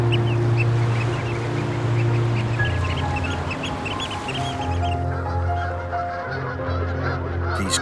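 A flock of Canada geese honks continuously as they take off from the Nevern estuary in Pembrokeshire, many overlapping loud calls over wing and water noise, the chorus thinning slightly toward the end.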